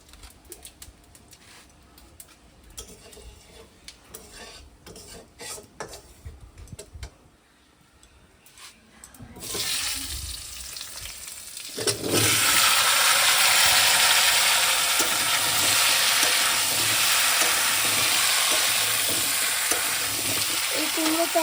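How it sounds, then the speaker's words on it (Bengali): Whole spices hit oil left over from frying katla fish, for a ripe local pumpkin curry: a few quiet clinks and scrapes, then a loud, steady sizzle that bursts in and holds to the end. "এখন মাছ ভাজা তেলেই ফোড়ন দিয়ে কুমড়োটা রান্না করব"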